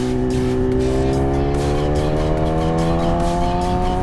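A BMW S1000RR superbike being ridden hard, its engine note loud and close, climbing steadily in pitch as it accelerates through the gear with a continuous high-revving roar.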